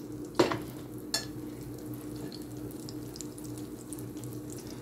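Grilled cheese sandwich frying in a pan, with a steady soft sizzle beneath two sharp clattering knocks near the start, close and moderately loud with no talking.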